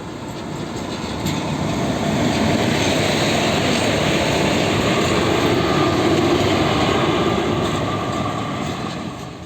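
A train rolls slowly along a railway track, its loud, steady rumble and rattle swelling in and holding through the whole stretch with no voices over it.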